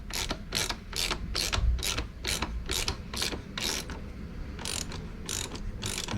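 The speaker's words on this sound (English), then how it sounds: "you tighten it back up using a 40mm span at the back now and a 6mm hex at the front" A ratchet clicks in rapid bursts while tightening exhaust bolts on a KTM 390 Duke motorcycle, a quiet, close, rhythmic series of sharp clicks.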